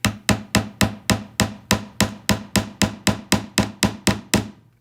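A small hammer drives tiny nails held in tweezers into a wooden board just under half an inch thick. About sixteen crisp, evenly spaced taps ring out close by in a steady rhythm, with no talking.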